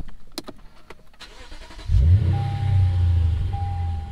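A Lexus RC F pulls away, with a few clicks and faint noise first, then a sudden loud low engine rumble that holds steady as the car drives off, close and with no talking.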